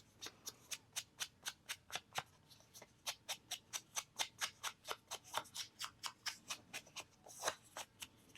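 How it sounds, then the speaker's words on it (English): Quiet, rapid scraping strokes as paper is distressed on both sides for a junk journal, a steady rhythmic series of about three dry rasps per second continuing close up without speech. "I'm going to distress both sides of the paper"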